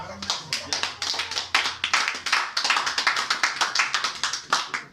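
A church congregation claps in praise of the Lord, with many hands in quick, uneven rhythmic applause that stays lively throughout, close and fairly loud, and voices cheering in the mix.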